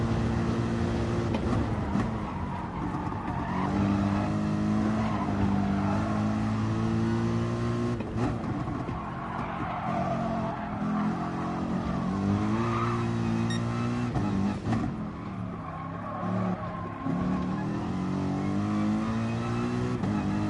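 A race car laps the Nürburgring Nordschleife in a racing video game daily race, its engine revving up and down through repeated gear shifts with occasional tire squeal, loud and continuous with no talk.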